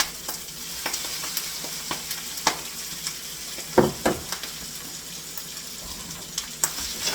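Pork frying in a pan with chili paste, a steady close sizzle punctuated by repeated scrapes and knocks of stirring and tossing, some louder clatters midway, without speech.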